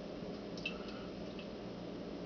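Rolling Rock Extra Pale beer is poured into a large Rickard's mug, giving a faint, steady liquid trickle and splash over a constant background hiss for about two seconds.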